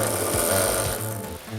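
Four-wheel anti-lock brake system activating while the brake pedal is pressed, a rapid, buzzing mechanical pulsing that chatters loudly and continuously for a moment, with no voices.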